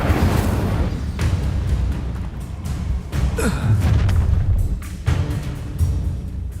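A fire spell cast in the video game Hogwarts Legacy, heard as a whooshing burst of flame over a low booming rumble, loud and close amid ongoing battle effects.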